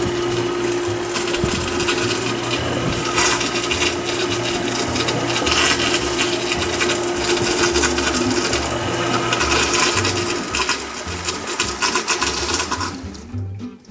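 A loud water pump runs steadily throughout a classroom water wheel demonstration, a constant churning, splashing roar with a steady low hum, close and continuous for the whole stretch before cutting off at the end.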